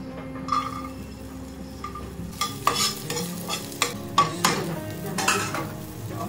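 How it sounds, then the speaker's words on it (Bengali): Garlic frying lightly in a little oil in a pan, a soft sizzle under repeated scraping and stirring strokes of a utensil against the pan, with a few sharper clinks spaced through the stretch. "এখান থেকে একটু তেল নিয়ে নিচ্ছি, হালকা একটু ভাজা।"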